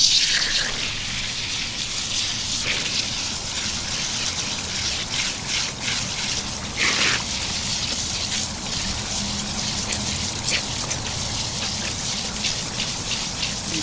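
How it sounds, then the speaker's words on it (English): Running water splashes steadily as a spiral tie-dyed t-shirt in red, navy blue, green and yellow is rinsed, a continuous hissing gush with spattering droplets, close and unbroken, with no talk. "Here to rinse out another t-shirt for you."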